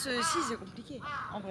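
Crows cawing on a street in Tokyo, Japan, with a few harsh calls rising behind continuous close French conversation between two people.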